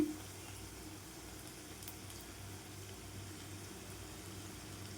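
Brinjal bajji (eggplant fritters) frying in a pan of hot oil on low heat, giving a steady, soft, even sizzle that holds throughout with no talking.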